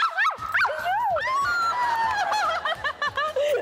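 A person imitates a puppy with high, whiny yelps and squeaky whimpers, rising and falling in quick bursts, close and loud.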